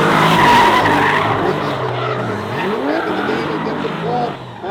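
At an Lz Invitational drift battle, a chasing car locks up its tires: harsh, loud tire squeal and skidding over racing engine noise, with a commentator talking throughout.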